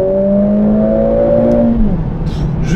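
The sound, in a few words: Mercedes A45 AMG S engine revving high to redline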